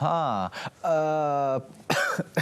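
A close, strained fit of coughing with drawn-out voiced rasps between harsher bursts.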